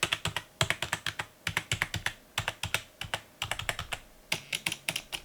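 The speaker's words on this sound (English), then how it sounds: "I'm going to do a sound test now, and this keyboard is really loud and really annoying." Typing on an Npet K10 budget keyboard with loud clicky switches, sharp close-up keystrokes in quick bursts separated by short pauses.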